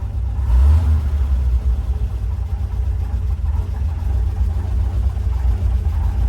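A 1956 International S-160 4x4 truck engine with vacuum leaks runs at a loud, close, steady idle, giving a deep rumble with one brief swell early on and no talking over it.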